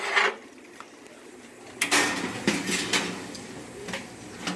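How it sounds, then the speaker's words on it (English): A metal rack in a toaster oven clatters as it is slid out and lowered, several sharp clanks and scrapes over a quiet room, close and fairly loud. "We got to take this rack, lower it to the bottom, and then take the pan"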